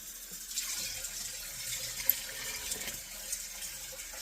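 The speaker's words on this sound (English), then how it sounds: "and I will put another thing of water in here" Tap water running into a cooking pot of beans in a home kitchen, a steady broadband hiss with a small splash near the middle, moderately quiet and without talk.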